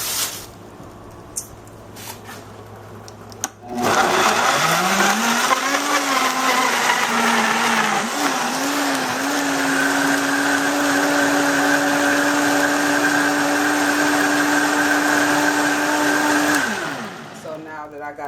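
A countertop blender whirs loudly and steadily for about thirteen seconds, blending herbs such as basil and thyme with seasonings, its motor pitch dipping and wobbling before settling into an even drone, then cutting off abruptly.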